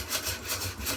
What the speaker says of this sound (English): we gotta get in there with the brush, scrub it.